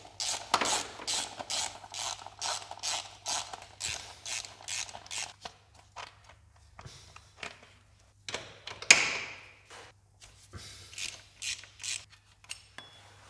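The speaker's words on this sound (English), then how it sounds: "I'm going to remove the drive sprocket now." A ratchet tool clicks in quick bursts of repeated ticks while removing the drive sprocket from a Kawasaki GPZ 500S (EX-4) motorcycle, close and fairly loud, with pauses and a few metallic knocks between bursts and no talking.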